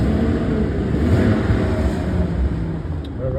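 Ford 6.8L Triton V10 truck engine running loud and close, a dense steady roar with slight rises in revs, no speech.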